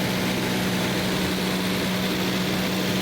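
Verner Kitfox 5 light aircraft in flight, a steady loud engine and propeller drone holding an unbroken tone from the cockpit with no talking.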